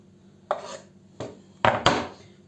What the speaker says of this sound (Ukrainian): Будемо нарізати зелену цибулю.